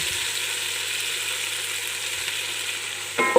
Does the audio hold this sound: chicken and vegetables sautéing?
yes